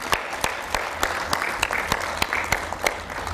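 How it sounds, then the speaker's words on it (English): Audience applause for presenters at a high-level food and nutrition security event, a steady crowd clapping with a few sharp, evenly spaced individual claps standing out near the microphone throughout. "can I ask you to give a huge round of applause to these brilliant presenters?"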